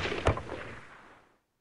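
Wargame gunfire from West Front, Operation Sealion: a single sharp shot bursts out, then a rolling boom decays over about a second, with no voices.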